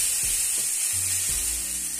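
Cumin seeds sizzle steadily and loudly in hot oil up close, with a few soft clinks underneath.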